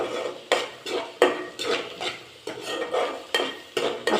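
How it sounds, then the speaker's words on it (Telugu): Onions stirred in a frying pan while an egg fry is cooked, the utensil scraping in steady rhythmic strokes about every half second, close and fairly loud over a soft sizzle. "బాగా వేపుకోవాలి. ఆనియన్స్ బాగా వేగాలి."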